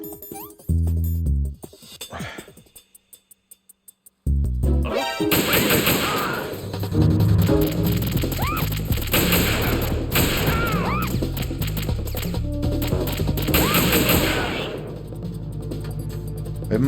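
Gunfire and mechanical clatter from the video game Metal Gear Solid 2, loud sharp shots and rattling bursts over a game soundtrack, with a quiet gap early before the action resumes densely.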